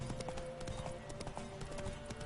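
Racing horses gallop along a track in The Witcher 3, a steady patter of hoofbeats running throughout beneath game ambience and music.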